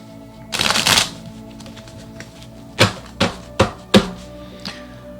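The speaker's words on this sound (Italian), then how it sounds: "Diamo una mischiatina alle carte." Tarot cards are shuffled up close: one loud riffling burst, then a series of sharp, evenly spaced taps as the deck is squared and cut.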